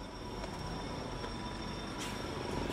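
A train rumbles steadily along a narrow railway line squeezed through Hanoi's old town at night, a dense, loud, continuous roll of wheels and carriages close by.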